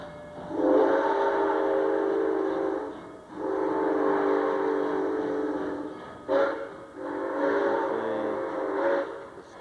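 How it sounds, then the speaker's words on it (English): Durango to Silverton train rolling down the tracks in the Colorado mountains, sounding long blasts of its whistle, three sustained calls with short gaps and a brief toot between, loud and clear over a low rumble. "I am now fixing to take a picture of the train coming down the tracks"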